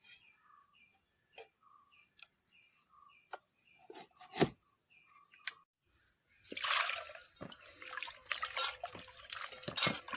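Cut dried bombil fish is dropped into water to soak: faint scattered ticks and clicks, a few sharper knocks, then a burst of splashing and sloshing liquid that continues close and moderately loud.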